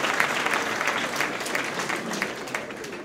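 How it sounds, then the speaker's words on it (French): A conference audience applauds at a forum on post-baccalaureate studies in Casablanca, producing steady, dense clapping that fills the whole stretch at an even level, with no voices clearly on top. "J'entends les applaudissements pour Ouatirki, Kawakebi et El Bilia"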